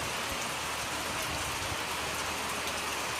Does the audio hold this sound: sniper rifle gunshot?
no